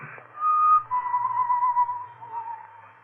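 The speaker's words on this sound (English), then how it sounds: "The whistling was somewhere in the building." A lone human whistle drifts through an empty building in the small hours, a sustained wavering tune held for several seconds in a quiet, hollow space, with no talk.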